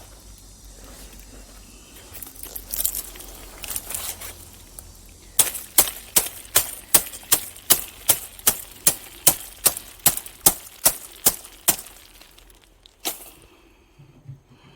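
Dried sesame bundles are knocked in a quick steady rhythm outdoors, each close, crisp tap releasing a patter of pouring seeds like rain; soft rustling comes before the run of about fifteen strikes.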